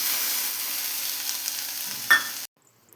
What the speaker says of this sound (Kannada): ಸೊಪ್ಪು ಫ್ರೈ ಆದ ನಂತರ ಬೇಯಿಸಿದ ಹೆಸರು ಕಾಳು